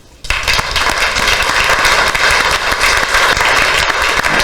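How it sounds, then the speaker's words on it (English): An audience at a council meeting breaks into sustained applause, a dense, loud wash of clapping that begins abruptly and carries on evenly without any talk. "I think a round of applause would be appropriate."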